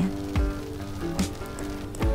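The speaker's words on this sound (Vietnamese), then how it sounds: "sáng nay vẫn còn bị ảnh hưởng bởi cơn bão số 1 nên trời mưa dai dẳng lắm" Steady rain from a lingering tropical storm falls in the background, a continuous wash of patter with a few louder knocks or splashes breaking through, no voices present.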